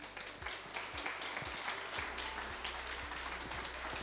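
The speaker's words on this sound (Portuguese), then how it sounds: "acolhemos ele com uma salva de palmas" Audience applause in a church congregation welcoming a priest, Father Mauro, a steady wash of clapping held at moderate level throughout with low background hum.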